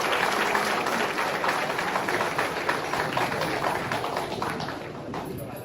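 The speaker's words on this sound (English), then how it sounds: "Shall we welcome them with a very big round of applause?" Sustained audience applause welcoming college choirs at a college of education centenary launch in Mampong, a steady dense wash of clapping lasting several seconds, with voices mixed in.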